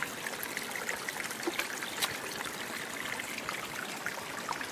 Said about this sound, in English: you can see the water right here is running